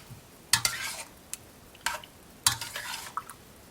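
Raw liver goes into a pot for boiling, with a few soft wet splashes and scraping clinks of a utensil against the pot, faint and close, spaced out with quiet gaps between.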